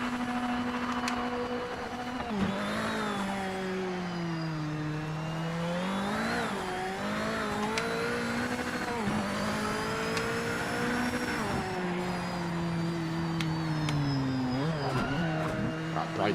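Racing car engine in a GT3/GT1/GT/LMP sim racing game accelerating hard, its revving pitch climbing and dipping through gear changes over a steady, loud drone, alone and continuous throughout.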